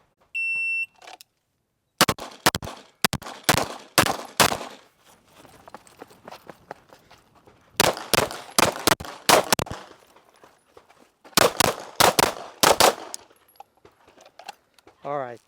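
Pistol gunshots from a competition shooting drill with a SWAT-style carbine-converted pistol setup, fired in rapid pairs and strings: a quick burst near the start, then three separate clusters of sharp, loud close-range cracks, with a timer beep at the outset.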